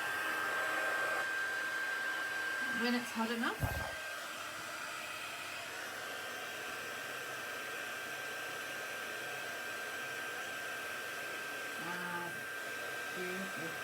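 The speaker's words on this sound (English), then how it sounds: "I'm going to let the heat tool warm up. It gets very hot" A heat embossing tool blowing hot air: a steady loud hiss blowing continuously, with a brief clatter early on and a voice speaking briefly over it.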